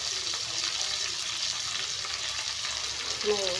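Ginger garlic paste sizzles and fries steadily in hot oil, a continuous close crackle with a brief stirring scrape near the end, no talking.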